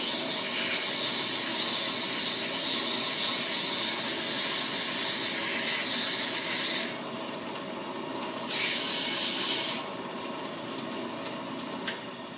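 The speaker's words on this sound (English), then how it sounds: "after we machine a brake rotor" A brake lathe machining a brake rotor gives a steady, loud grinding hiss that drops off abruptly, returns briefly, then gives way to a quieter machine hum.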